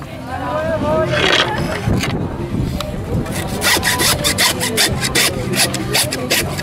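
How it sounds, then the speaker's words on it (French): An electric saw rasps rhythmically through a pig carcass in repeated strokes, loud and close, with people talking over it at a village pig festival. "La scie électrique, je croyais que c'était la première fois que je me suis servi de cet outil"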